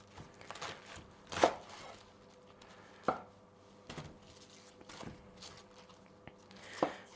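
A knife chops cabbage into fine ribbons for a pickle, giving a handful of sharp, separate cuts at uneven intervals against a quiet kitchen background.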